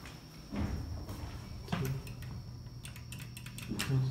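Door of an Otis hydraulic elevator at a college building, a stainless steel hospital-sized cab with a counterweight door, sliding and clunking in several faint thuds over a low motor hum and a steady high whine.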